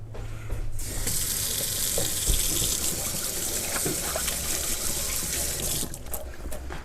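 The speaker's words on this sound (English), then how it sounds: "First thing we should always do is wash our hands." Hands being washed under a running kitchen tap, a steady broadband rush of water that starts after about a second and runs close and continuous until it cuts off near six seconds, with rubbing splashes throughout.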